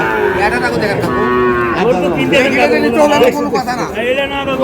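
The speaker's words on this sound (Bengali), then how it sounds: "শাহিওয়ালের ষাঁড়।" A Sahiwal bull at a busy cattle market lets out several loud, drawn-out moos close by, with people talking and haggling over the calls.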